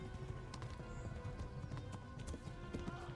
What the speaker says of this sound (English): Oh, it's hard driving this horse.